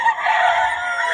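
A rooster crows loudly and close, a single sustained call filling the brief moment with no other sound.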